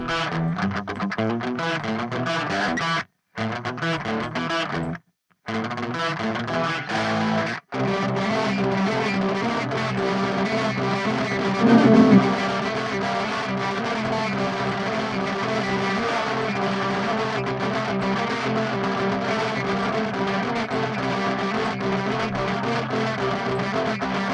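Heavily distorted electric guitar playing sustained chords and riffs, loud and continuous, with a few abrupt brief cutouts near the start.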